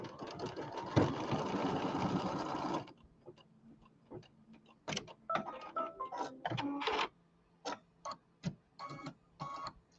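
A home sewing machine stitching quilt blocks runs in a quiet, close mechanical clatter for a few seconds, then gives way to short intermittent bursts of stitching and small handling clicks, with no talking.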